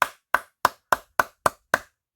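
Seven sharp, evenly spaced claps, close and loud, one person clapping alone at a steady rhythm, standing in for applause after an early Lego minifigure showcase.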